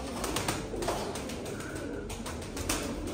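Tumbler pigeons coo softly in a low, rolling rhythm amid faint background noise, with no voices.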